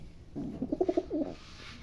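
A female racing pigeon resting in its loft gives a short, soft burst of low throaty cooing, close and alone against quiet background hiss.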